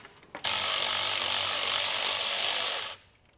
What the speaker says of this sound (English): it looks like we have a 10 millimeter nut on a stud. So we'll go ahead, get that removed